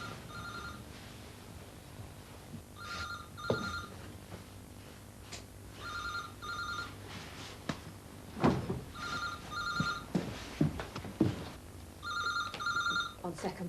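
A telephone rings in repeated double bursts of bright, trilling bell tone at a steady interval, while people talk and move around it in a room.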